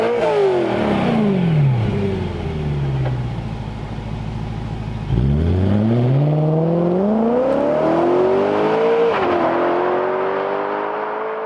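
A V8 car engine roars loudly and close, rising in pitch through the gears. It drops back and then climbs hard again, and there is no speech.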